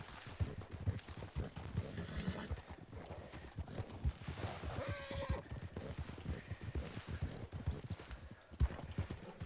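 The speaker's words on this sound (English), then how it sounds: "Would you please stop your horse?" Horse hooves clip-clop steadily at a gallop through a ravine in a Western role-play video game, with occasional neighing, loud and continuous throughout.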